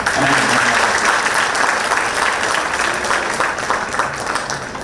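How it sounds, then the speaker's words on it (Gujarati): Audience at an institutional speech event applauding loudly, with dense continuous clapping for about five seconds that stays strong and slowly eases, no talk over it. "એના માટે પાછી જોરથી તાળીઓ પાડીએ"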